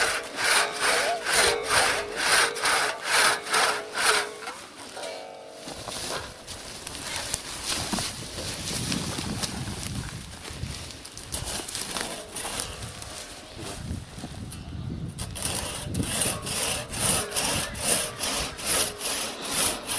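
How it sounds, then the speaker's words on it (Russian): Two men hand-saw timber on a clear spring day in the village of Poteryaevka, the steady back-and-forth strokes near and loud, pausing briefly mid-clip before resuming in rhythmic pulls. "Вот братья наши Никита и Виталий пилят дробину."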